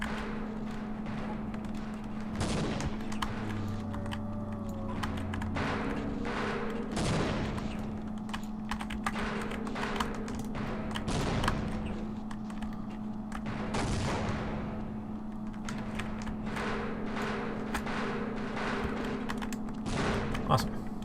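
Half-Life gameplay with repeated gunfire bursts and grenade explosions, sharp cracks and thumps scattered over the whole stretch against a steady hum, while someone talks throughout.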